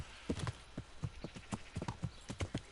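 Horse hooves clip-clopping in the Kingdom Come: Deliverance video game, a quick uneven series of a dozen or so crisp thuds at walking pace, fairly close and with no talking.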